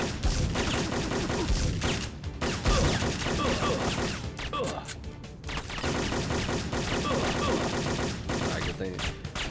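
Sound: gunfire in Syphon Filter video game

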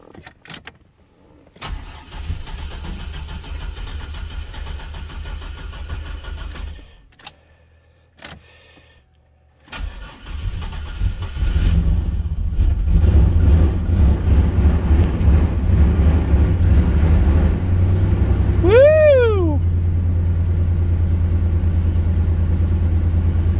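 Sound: junk Chevy S10 pickup truck engine cold start and idling

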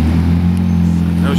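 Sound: Porsche Cayman GTS sports car

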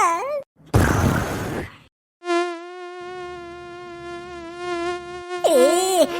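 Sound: mosquito buzzing in a Tamil cartoon

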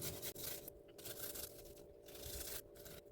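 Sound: grating large garlic cloves

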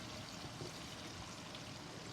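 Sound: water being poured into the cooking pan

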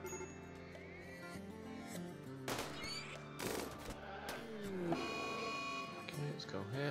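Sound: gunfire in the video game RimWorld

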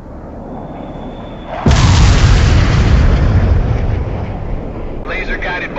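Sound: laser-guided bomb strike explosions in the video game World in Conflict

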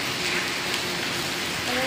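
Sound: light rain falling at Trasi beach

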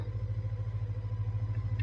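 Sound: 30-year-old Honda motorcycle engine running

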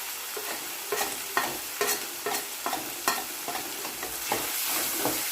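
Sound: stirring turmeric into frying gongura mutton curry masala

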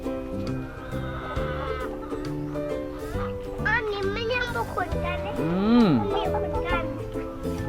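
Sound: chickens clucking in a coop

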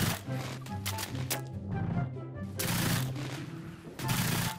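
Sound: machine gun firing in the video game Isonzo

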